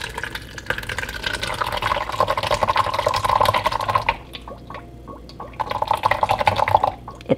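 Hot homemade ricotta cheese poured into a colander, a continuous liquid pouring and dripping stream with a brief lull before the trickle resumes, close and fairly loud.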